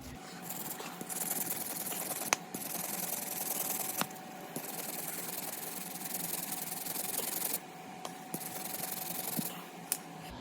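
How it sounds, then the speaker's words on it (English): Wire brush scrubbing rust and grime off a Jeep Wrangler JK tie rod, a steady close scratchy hiss in long strokes broken by brief pauses and a few sharp knocks, with no talking. "It may not be a bad idea to hit it with a wire brush a little bit."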